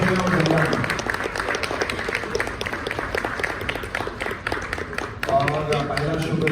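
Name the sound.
audience applause at Heeramandi promotion event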